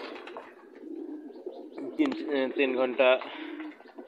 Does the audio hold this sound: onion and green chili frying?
no